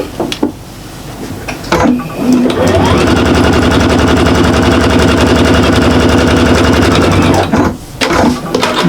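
A sewing machine stitches a basting line to fix a pocket along the centre seam of a shopper bag, a loud rapid mechanical whirr running steadily for about five seconds, with brief handling clicks before and after.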